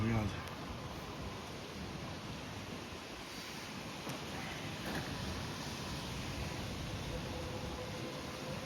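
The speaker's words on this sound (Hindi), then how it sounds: "हवा चल रही है, दिखाता हूँ मैं" A cold night wind blows outdoors on a bike trip toward Rishikesh, a steady broad rushing roar with buffeting on the microphone, close and continuous.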